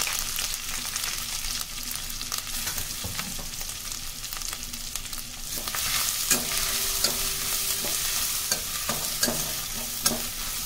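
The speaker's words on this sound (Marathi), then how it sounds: "2 मिनिट मसाला चांगला भाजून घेतलाय मी" Ground masala paste with cumin and curry leaves sizzles and is roasted in a pan for Maharashtrian katachi amti, with steady frying and repeated scraping stirs of a spoon, no talk.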